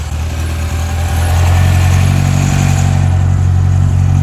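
A barn-find Ford Escort Mk2 engine idles close by, a steady low rumble that swells slightly louder and holds an even, lumpy rhythm.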